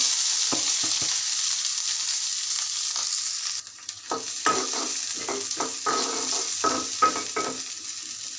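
Green chilies, onion and garlic fry in a hot wok with a steady close sizzle, joined after a few seconds by repeated clattering strokes of stirring.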